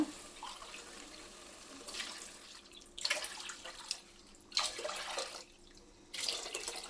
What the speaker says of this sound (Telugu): దీంతో 4 గ్లాసులు వాటర్ పోసుకుంటాను, గ్లాసుకు 2 చొప్పున